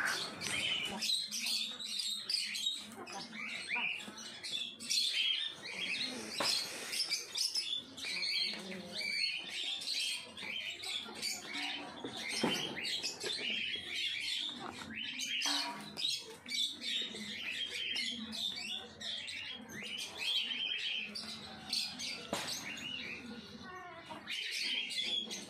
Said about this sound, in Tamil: இந்த ஒரு காக்கா மட்டும் தான் இப்படி ரொம்ப தொல்லை பண்ணுது